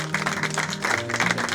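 Audience applause at a personal development coaching training workshop, a steady patter of many hands clapping throughout, moderately loud and without voices.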